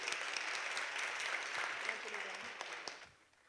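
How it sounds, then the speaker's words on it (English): A crowd applauds at a city budget town hall meeting, a sustained wash of clapping from many hands that carries on steadily and then trails away near the end. "Give him a round of applause, please."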